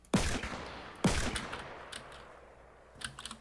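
Two loud, close gunshots crack about a second apart in Fortnite, each with a short decaying tail, followed by fainter clicks and taps.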